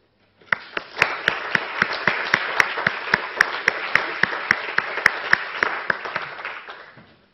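A lecture audience applauds steadily for several seconds, the many hands blending into a dense, even wash with distinct claps poking through before it fades out.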